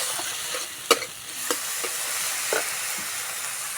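Chopped onion dropped into ground spice paste sizzling in a pan while cooking drumstick greens with egg, with a steady frying hiss and a few sharp spatula scrapes and stirs, close and alone.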